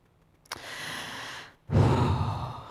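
Breathing from a conference audience during a guided breathing exercise: a slow inhale after a faint click, a short pause, then a fuller, louder exhale, with no talk.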